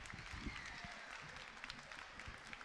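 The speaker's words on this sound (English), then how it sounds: "give a round of applause for our narrator" A school auditorium audience at a middle school band concert applauds the narrator and the district superintendent, a steady wash of clapping with a few voices murmuring underneath.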